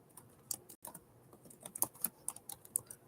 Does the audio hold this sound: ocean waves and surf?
no